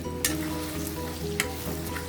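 Chicken afritada with bell pepper is stirred in a pan, a constant close sizzle broken by a few sharp scrapes and clinks of the utensil against the pan.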